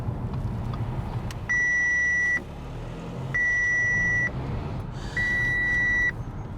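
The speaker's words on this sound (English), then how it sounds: "that beep I think keeps coming up." Three steady electronic beeps, each lasting close to a second, repeat at even intervals over a low rumble of traffic and engine noise.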